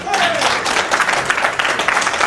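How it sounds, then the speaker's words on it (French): Loud crowd applause at a political rally for Laurent Gbagbo's FPI party, a dense continuous wash of clapping with voices mixed in. "Je voudrais que vous vous applaudissiez très très fort"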